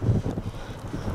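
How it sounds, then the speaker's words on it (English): Low, gusty wind buffets the microphone in uneven bursts on high ground near Mam Tor in the Peak District, a rough rumbling roar with no voices. "It's quite windy up here."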